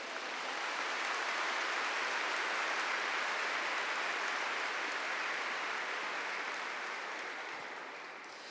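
A church congregation applauds together after a scripture reading, a dense, steady wash of many hands clapping that swells and then tapers slightly toward the end, with no voices over it.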